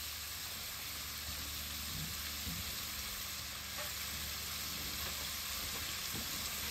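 Sausage frying in a greased pan gives a steady, dense sizzle and hiss close by, broken only by faint stirring taps, with no talk.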